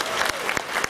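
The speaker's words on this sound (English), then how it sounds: "Give her a big round of applause." Crowd applause at a live bird show at Disney's Animal Kingdom theme park, a brief burst of dense clapping with a few sharper individual claps standing out.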